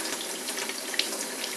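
Tap water runs steadily over pond filter media being rinsed, a close, bright splashing hiss with small gurgles and one sharp drip, no talk.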